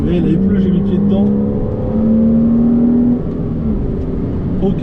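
Porsche Cayman S engine pulling hard on a wet road in the rain, a loud steady drone rising in pitch for about three seconds before easing off, with tire hiss and cabin noise throughout.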